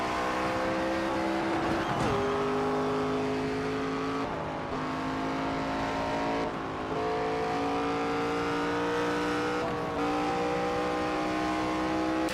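Race car engine on a lap in the NASCAR 25 video game: a loud, continuous engine drone whose pitch climbs steadily through gears, dropping sharply at each shift and rising again.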